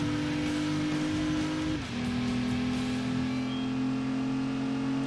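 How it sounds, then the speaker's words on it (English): A race car engine in Gran Turismo 2 holds a high, steady rev with a brief dip partway through, then a sustained drone at high rpm. "Seems like revving it high"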